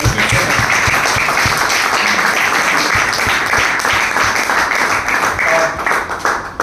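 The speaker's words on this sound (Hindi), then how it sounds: "सबके लिए जोरदार तालियां" Loud, dense applause from a large crowd of business associates and leaders at a business meeting, a continuous roar of many hands that holds steady for several seconds before thinning slightly at the end.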